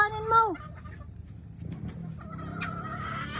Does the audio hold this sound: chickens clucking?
yes